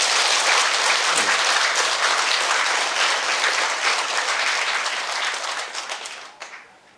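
A congregation at a Saturday Dharma service in a Buddhist temple bursts into loud, sustained clapping that holds steady for several seconds before thinning out and fading near the end.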